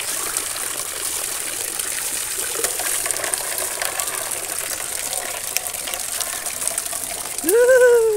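Steady gushing water from a dolphin-shaped fountain pouring into a swimming pool at a beach resort, a continuous broad splash that holds throughout, with a brief voice breaking in near the end.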